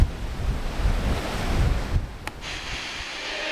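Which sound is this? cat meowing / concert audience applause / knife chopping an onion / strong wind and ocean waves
strong wind and ocean waves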